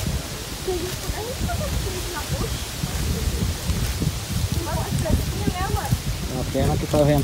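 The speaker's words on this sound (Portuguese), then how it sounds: "A pena que tá ventando bastante e vai estar saindo o som do vento na, na filmagem" Strong wind buffets and rumbles across the microphone in continuous gusts on a mountain, while voices talk faintly underneath.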